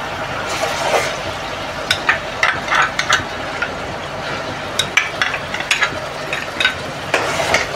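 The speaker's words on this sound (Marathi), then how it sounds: "आता आपण आलं लसूण पेस्ट घालूया" Ginger garlic paste sizzles steadily in hot oil in a pan, with a continuous crackling hiss broken by repeated scraping stirs and small sharp spatters; close and fairly loud, no voices.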